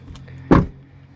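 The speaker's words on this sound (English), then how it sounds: "Nice solid closing door." A 2018 Chevrolet Cruze LT door shuts with a single solid thump, loud and close, over a low idle hum.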